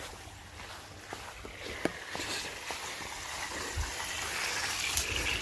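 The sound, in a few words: hose water running into bucket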